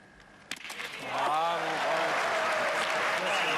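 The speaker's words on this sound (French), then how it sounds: "il vient d'applaudir" Applause rises from spectators at the Pétanque World Championship final in Grenoble, swelling into a sustained wash of clapping after a sharp knock, with a faint voice or whistle-like tones audible underneath.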